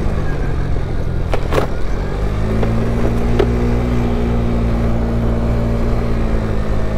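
GY6 50cc scooter engine running steadily while riding, a loud, close, droning hum holding an even pitch with a slight rise early on, no voices.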